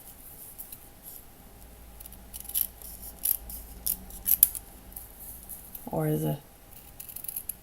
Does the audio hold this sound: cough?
no